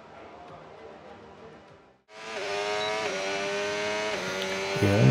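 Formula 1 car engines at the Red Bull Ring in Austria in a racing video game, a quiet lead-in giving way to a loud, sustained high-pitched engine whine that shifts pitch with gear changes and rises near the end.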